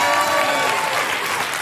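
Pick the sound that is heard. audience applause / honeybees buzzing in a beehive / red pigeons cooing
audience applause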